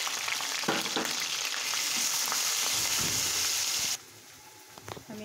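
Spice paste going into hot oil while cooking beef kosha, a loud continuous sizzle with stirring clinks that suddenly drops to a much quieter simmer near the end, no speech.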